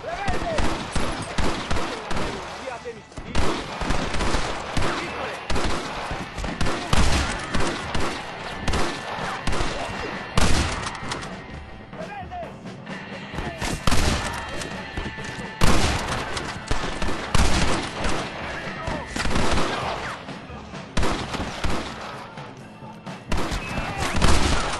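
Dense, continuous gunfire in a Red Dead Redemption shootout with a sniper rifle, with loud overlapping shots, crashes and booms throughout and voices heard under the gunfire.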